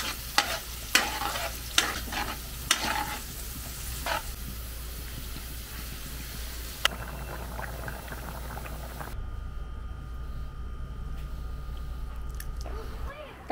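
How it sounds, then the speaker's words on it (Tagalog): Marinated menudo sautéing in a pan makes a continuous bubbling sizzle, with sharp utensil clanks and stirring scrapes early on. The sizzle carries on steadily, its tone changing slightly near the end. "kailangan magigisa na tayo"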